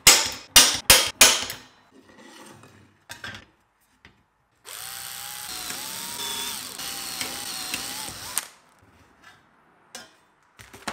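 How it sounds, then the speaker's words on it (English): A power drill with a 3mm bit bores screw holes in the bottom of a case, a steady whining run of several seconds framed by sharp clicks and knocks of handling, close and loud. "we can mark the position of the screws and drill them out using a 3mm drill bit."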